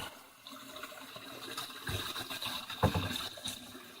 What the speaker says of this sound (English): water comes in